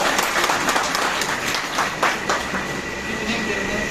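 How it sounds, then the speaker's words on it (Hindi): Audience at a journalists' gathering claps in uneven bursts, moderately loud, with murmured voices beneath the clatter. "अरे रामदेव कहना थोड़ा जोर से ताली बजाया करो, अपने आप के लिए बजाओ।"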